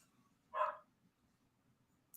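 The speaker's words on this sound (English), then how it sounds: "doing a really bad job at keeping my dog quiet" A dog indoors gives one sharp, fairly close bark, followed by quiet, and a second bark just starts at the very end.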